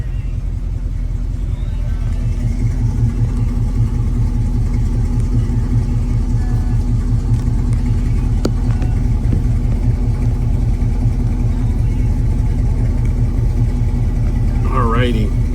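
A 1967 Chevrolet Camaro 396 with a mild cam idles with a deep, loping rumble, close and loud and steady throughout. A brief rise in pitch comes right at the end.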